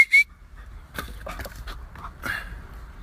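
Out in the woods, a dog makes a few faint whimpering and rustling sounds after a brief sharp high call at the start, with quiet gaps between the bursts.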